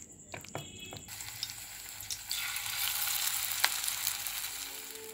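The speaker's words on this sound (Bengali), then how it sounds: "পেঁয়াজিগুলো তৈরি করে নিচ্ছি" Onion fritters (piyaji) frying in fresh oil at home, a close, steady crackling sizzle that builds after a few quiet knocks at the start and keeps hissing to the end.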